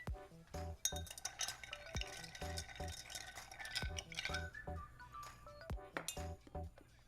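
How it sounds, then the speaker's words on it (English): Ice clinks and rattles against glass as a bourbon and creme de cacao cocktail is stirred, giving a rapid run of bright, close chinks and taps with no talking. "And then let's stir this down."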